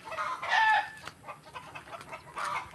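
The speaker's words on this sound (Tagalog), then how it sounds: "Yun yung mga manok." Chickens cluck in a small home garden, with a burst of loud, close calls near the start and another toward the end and quieter clucks in between.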